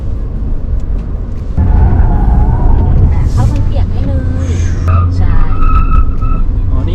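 A Toyota Corolla Cross weaves through a slalom at about 50 km/h, a steady close engine and tyre roar rising partway in, with people talking over it inside the cabin.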